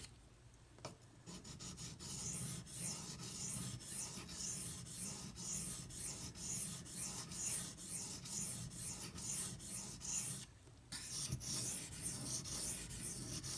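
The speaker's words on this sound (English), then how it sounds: "You can even hear the difference as I run the knife blade across it." A D2 steel blade of a Benchmade Mini Griptilian folding knife is drawn repeatedly across a fine sharpening stone. The strokes make a quiet, close, rhythmic rasping with a couple of brief pauses.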